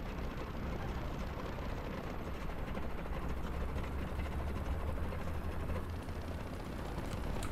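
Steady helicopter rotor and engine drone in the War Thunder video game, a continuous broadband roar with low throb, constant and fairly loud throughout with no talk.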